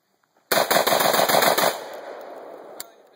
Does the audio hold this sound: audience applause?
no